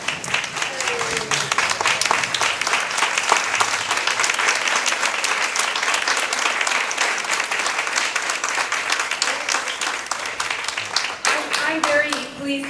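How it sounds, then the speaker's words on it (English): Sustained, loud standing applause from a large crowd at a forum, dense steady clapping that carries on for a long stretch before a few voices emerge near the end. "give her a special stand-up round of applause"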